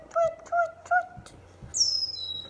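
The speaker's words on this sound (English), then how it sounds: "Can you hear the chickadee sound?" Chickadee call: three quick, clear whistled notes in a row, followed by a higher, longer descending whistle, moderately loud against quiet background noise.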